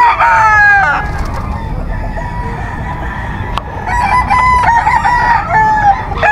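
Gamefowl roosters at a pet market in Bocaue crow loudly nearby, with two long crows and clucking from the surrounding birds in the busy market.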